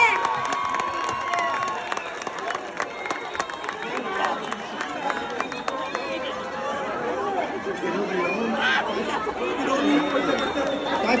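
A festival crowd in Ústí nad Labem fills the air with dense chatter, scattered cheers and applause, sustained and moderately loud throughout, with voices shouting within the mass.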